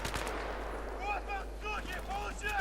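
Gunfire in the video game Battlefield 3: a dense rattle of rapid shots at the start, then fainter scattered bursts with ringing tonal game effects over a constant low hum.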